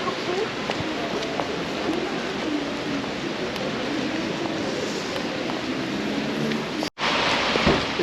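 Rain falls steadily around Lake Annecy on a Saturday afternoon, a broad even hiss that is moderately quiet and continuous. A brief cut breaks it near the end, and birds may call faintly in the background.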